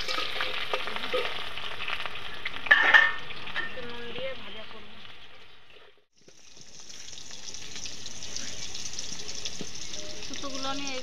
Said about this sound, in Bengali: একটু নুন দিয়ে ভাজা করব